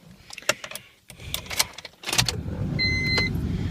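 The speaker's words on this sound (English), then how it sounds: "Let's start the car." A car engine turns over and catches during a snowstorm, preceded by clicks and clunks of handling, then a steady low engine rumble settles in close by with a faint whine.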